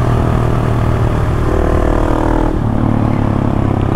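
Husqvarna 701 motorcycle being ridden, a loud continuous engine drone with wind rush, the pitch easing slightly partway through.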